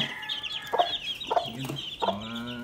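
Hens cluck in short bursts, a few throaty calls spaced across a couple of seconds, fairly close, with no one talking.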